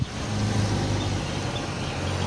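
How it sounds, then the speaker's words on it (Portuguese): An automated garbage truck passes by on a city street, a dense, continuous engine and road roar that holds steady for a couple of seconds with no talk. "Esse caminhão que passou é o caminhão que tira o lixo automático aqui na cidade."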